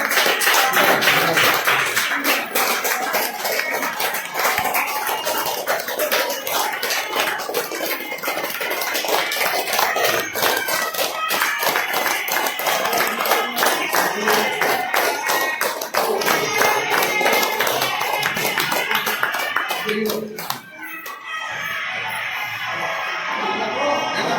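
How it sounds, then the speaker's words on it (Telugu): An audience at a full moon pyramid meditation gathering in Bethamcherla claps loudly and steadily for about twenty seconds, a dense, sustained wash of applause that thins out near the end. "గట్టిగా క్యాప్స్ కొట్టండి"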